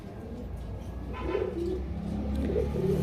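Pigeons being held in the hand give a few low, soft coos close by over a steady murmur of background noise.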